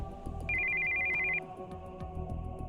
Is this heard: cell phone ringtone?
yes